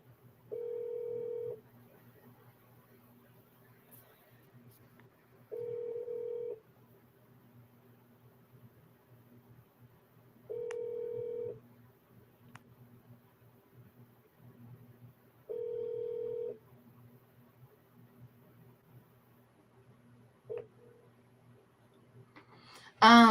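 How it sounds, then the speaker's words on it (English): A phone rings four times in steady, evenly spaced bursts over a low background hum, followed by a short click near the end. "Just the phone just ringing?"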